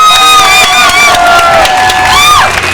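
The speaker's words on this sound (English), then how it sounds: "Raise your hands and clap." A crowd at a university-linked Pride event claps and cheers loudly, with whoops and sustained bright, whistle-like tones riding over the noise.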